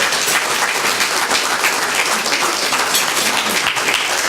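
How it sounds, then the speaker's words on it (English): A room cheers the Canfield Cardinals high school team at a Canfield regional chamber morning gathering with dense, loud, continuous applause: many hands clapping at once in a steady wash of sound with no pauses. "big round of applause for the"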